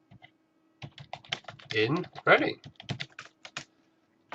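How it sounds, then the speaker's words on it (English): Someone typing a search query on a computer keyboard, close rapid keystrokes in bursts, with someone speaking over part of it. "I'll be typing in emergency dentist"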